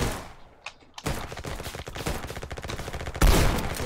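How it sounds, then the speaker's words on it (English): Gunfire in the video game Trenches: a quiet start, then a sudden run of rapid, crackling shots, ending in one louder, heavy shotgun blast. "The shotgun."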